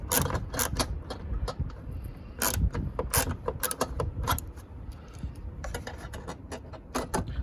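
Mechanical clicking and ratcheting from tightening the battery hold-down bolt on an Acura TLX with Technology Package, a close, irregular series of sharp clicks and metallic taps lasting several seconds with no talking.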